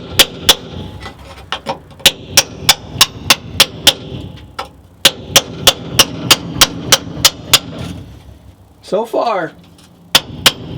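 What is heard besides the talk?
3-pound sledgehammer and chisel on VW Bug floor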